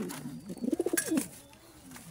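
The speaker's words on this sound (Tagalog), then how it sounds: "Napakagandang kalapati ni Borga." A pigeon coos nearby, a short rolling burst of soft throaty pulses, followed by quiet background.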